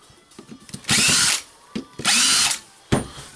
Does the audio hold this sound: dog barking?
no